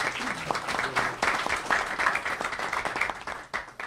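Audience at a government social development event in Mexico applauds, a dense, even patter of many hands clapping throughout, moderately distant with faint voices beneath.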